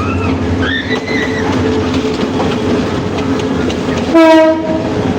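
A passenger train bound for Dhaka rumbles steadily nearby with rhythmic rail clatter, then a loud horn blast sounds briefly near the end.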